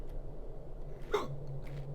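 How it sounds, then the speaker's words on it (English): A single short hiccup sound effect in the video game Solstice, a quick soft gulp over a low steady background hum, with otherwise near silence around it. "Oh, there's the hiccups."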